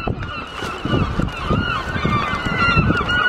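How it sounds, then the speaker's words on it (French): Several seagulls call repeatedly with honking, squawking cries over a low rumble of wind and surf at a windy seaside in the UK. "pas mal de mouettes quand même"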